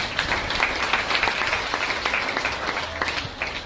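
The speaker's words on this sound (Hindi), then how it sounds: "और एक बार जोरदार तालियां हमारे सुरेश जी के लिए।" Loud, sustained applause from an audience at a Shrimad Bhagwat Katha religious gathering in Mohali, dense clapping holding steady for several seconds with no talk over it.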